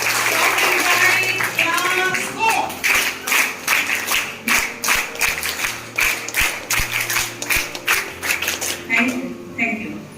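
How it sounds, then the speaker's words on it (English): Applause from a seminar audience at DAV Public School Berhampur, welcoming a professor to the stage. Dense clapping builds and holds for about ten seconds, loud and close, with a voice and low music running under it. "Welcome to Professor Amiya Kumar Paricha sir with a big round of applause."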